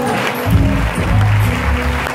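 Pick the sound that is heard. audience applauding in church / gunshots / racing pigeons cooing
audience applauding in church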